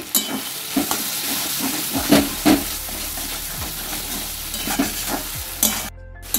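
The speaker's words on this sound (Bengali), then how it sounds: "মশলাটা এখন ভালোভাবে কষানো হয়ে গেছে" Spice masala with chopped tomato and ground coriander fries in a pan with a steady close sizzle, punctuated by repeated scraping stirs of a spatula and a brief clatter near the end, with no voices.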